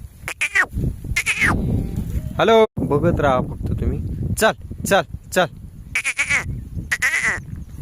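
Several Kathiawadi goats bleat in wavering cries, some near and some farther off, while someone talks and calls out to them.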